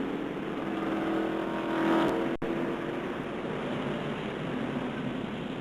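NASCAR stock cars roar around the track in a steady, loud continuous engine drone with a brief swell as a car passes close, no talk over it.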